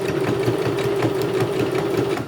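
A sewing machine stitches a folded fabric coaster in a steady, rapid mechanical chatter, close and continuous for a couple of seconds before easing off at the end.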